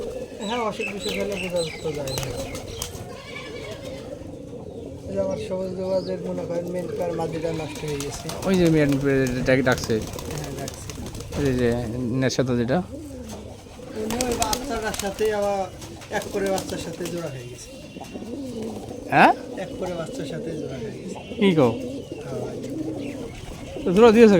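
Giribaz pigeons coo in a loft of about fifty birds, with repeated soft, throaty calls overlapping throughout and a voice talking nearby.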